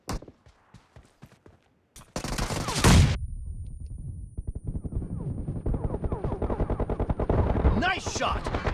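Shotgun fire in the BGMI mobile battle game, with sharp repeated blasts and rapid volleys of game gunfire, loud and close, building after a sparse opening of isolated shots.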